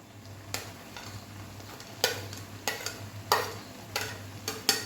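A spoon scrapes and stirs carrot halwa with dry fruits in a pan on a high gas flame, several distinct scraping strokes at an uneven rhythm over a soft sizzle.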